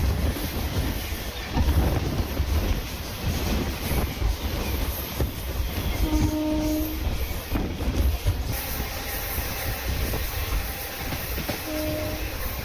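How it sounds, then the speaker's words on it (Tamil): The Pearl City Superfast Express, running from Chennai Egmore to Thoothukudi, rumbles past loudly and steadily, with a rushing roar, a few rhythmic wheel clacks and brief whistle-like tones near the middle and end. "One 2693 Perl city super fast express Chennai Egmore to Thoothukudi."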